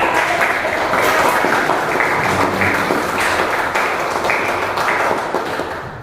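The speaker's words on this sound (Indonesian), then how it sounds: "beri tepuk tangan untuk" Students in an Indonesian mathematics classroom applaud together, a steady, dense clatter of many hands that fills the whole stretch at fairly loud level, with no speech over it.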